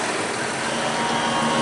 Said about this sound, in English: This is a Fendt-tractor, the best tractor in the world.